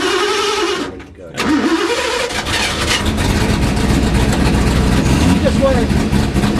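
Ford GT40 MKII race car cranking on its starter and catching, then a loud, close engine running rough and steady, with voices speaking over it.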